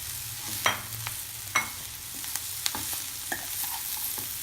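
Potatoes stirred into masala frying in oil for aloo gobi curry: a steady soft sizzle broken by several sharp scraping stirs of a spoon against the pan, close and with no talking.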